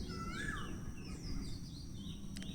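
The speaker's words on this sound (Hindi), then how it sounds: "कोयल की आवाज़ भी आ रही होगी आपको" Asian koel calling at about 4:30 in the early morning, a few rising whistled notes at moderate distance over a low background hum.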